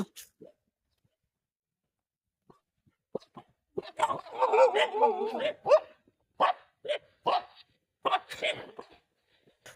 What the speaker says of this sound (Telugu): కుక్కలు అయితే అడుస్తున్నాయి